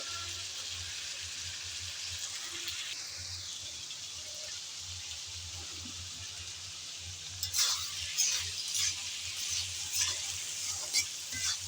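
Pointed gourd and potato pieces with turmeric and salt fry in a pan with a soft, steady sizzle beneath a low hum, then a few clattering stirs break in toward the end.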